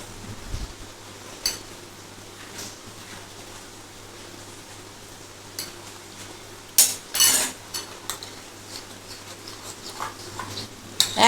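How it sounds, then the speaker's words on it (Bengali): Amul milk powder is stirred slowly into warm milk in a bowl for makhana kheer, with sparse, faint spoon clinks and scrapes against the bowl over a quiet background. "একটু গরম দুধ আমি এর মধ্যে দিয়ে দিয়ে আস্তে আস্তে আস্তে করে গুলবো"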